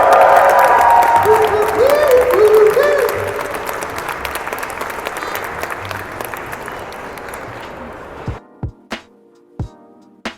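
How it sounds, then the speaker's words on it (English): An audience at NostalgiaCon 2025 applauds the Ed, Edd n Eddy cast with loud, sustained clapping and some cheering. The applause fades after about eight seconds, leaving a few scattered claps. "Round of applause, sir. The cast of Ed and Eddie."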